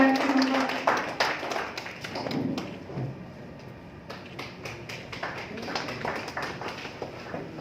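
Applause from an audience at an evening community service award event, a loud burst of many hands clapping that fades into thinner, scattered claps and taps.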